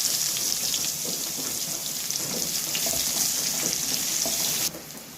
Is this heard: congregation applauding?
no